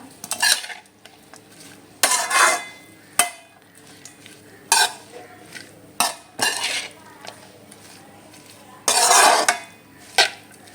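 Cabbage and capsicum with salt are stir-fried in a pan, a faint sizzle underneath a series of sharp, uneven spatula scrapes and clanks against the metal, close by with no talking.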